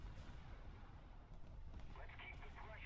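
Torpedo hits striking ships in the War Thunder naval video game, a rumbling blast followed by roiling, watery explosion noise, with a voice talking over it.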